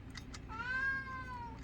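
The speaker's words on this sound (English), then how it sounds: "Yes, I know you're a cat." A cat gives a single clear meow, rising and then falling, close and fairly quiet, heard alone without talking.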